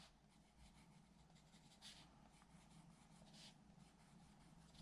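A pencil lightly shades paper while a llama is drawn, giving soft, faint scratchy strokes in a loose repeating rhythm, close and quiet with no voices.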